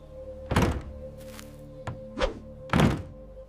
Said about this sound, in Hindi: पंकज ने धक्का देकर दरवाजा खोला।